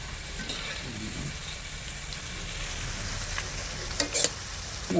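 Broad beans fry in a pan with a soft, continuous sizzle and crackle, close by, followed by a few clinks and scrapes toward the end.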